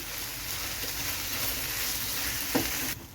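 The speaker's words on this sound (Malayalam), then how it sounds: "നമുക്കിതിലേക്ക് ചേർത്ത് കൊടുത്ത് നമ്മുടെ തക്കാളിക്ക് ഒന്ന് വെന്ത് വരുന്നിടം വരെ നമുക്കൊന്നുകൂടി ഇളക്കി കൊടുക്കാം." Chopped tomato with onion frying in a pan for a quail egg roast, giving a steady close sizzle with a few soft stirring scrapes, ending abruptly.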